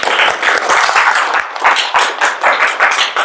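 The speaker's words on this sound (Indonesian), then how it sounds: "Oke, tepuk tangannya dulu." A classroom group claps together in a lively burst of applause lasting a few seconds, dense and close with uneven rhythm.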